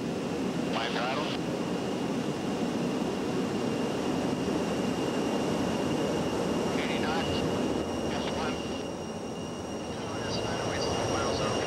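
Boeing 707 airliner used as a space shuttle training aircraft, heard in flight as a steady broadband roar with a constant whine, loud and continuous throughout, with a few faint muffled voices underneath.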